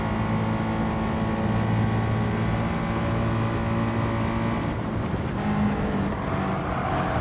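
A car engine in Gran Turismo 7 pulls hard in fourth gear with the pedal down, a steady, loud droning hum with a smooth tone that holds, then changes pitch slightly near the end, with no voices.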